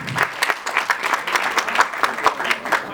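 Applause from the audience at a film trailer launch event for Amitabha Singh, dense rhythmic clapping that swells in repeated bursts, fairly close and loud.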